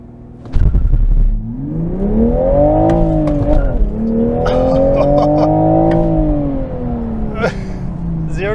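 A 2023 Toyota Supra 3.0L manual accelerating hard from a standstill, close and loud, with the engine note rising steadily through the revs, easing briefly at a gear change, then climbing again.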